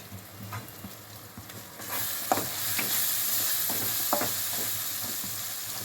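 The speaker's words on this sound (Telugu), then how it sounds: "మూత ఓపెన్ చేసి మళ్ళీ ఒకసారి కలుపుతున్నాం." Tomato and onion masala for egg curry is stirred as it fries in oil, with scraping strokes of a spoon in the pan under a sizzle that grows louder and steadier partway through, no voices.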